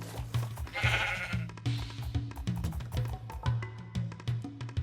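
Sheep bleat repeatedly in the Minecraft video game, a series of close, loud game bleats heard over rhythmic background game music, with no talking.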